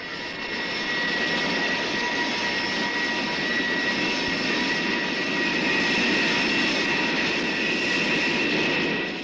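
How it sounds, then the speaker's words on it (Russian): An aircraft taking off, a steady, loud roaring engine drone with broad hiss and whine that holds constant throughout without a break or voices. "разрешите взлет."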